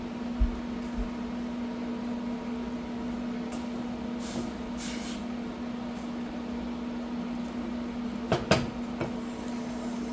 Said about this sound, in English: I'm gonna heat this up in the microwave so I'm not adding it cold